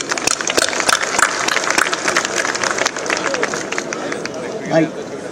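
An audience claps in a dense, scattered patter, with crowd murmur mixed in and the applause trailing off slightly toward the end.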